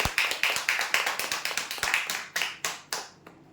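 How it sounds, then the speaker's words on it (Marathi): Hands clap in a quick, steady rhythm at a prize draw as a winner is announced, over a dozen sharp claps that slow and fade out at the end. "जोरदार टाळ्या देण्यासाठी"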